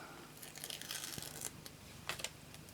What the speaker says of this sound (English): I am going to get myself a sticker off